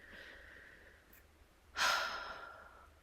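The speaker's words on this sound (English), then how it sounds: "Let's all take a breath together, shall we?" A deep group breath drawn in slowly, starting faintly and then swelling into a loud, close rush of air that eases off gradually. No talking over it.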